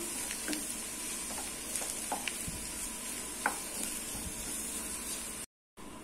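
Potato masala with turmeric and salt stirred in a hot pan, a spoon scraping and knocking over a steady soft sizzle, close up with no speech.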